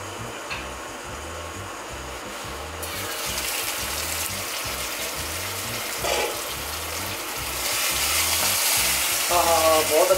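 Spice paste frying in a pan for stuffed brinjal, a steady dense sizzle with soft spattering that swells louder toward the end, with no talk over it.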